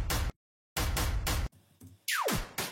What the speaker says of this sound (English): This is a slam sound effect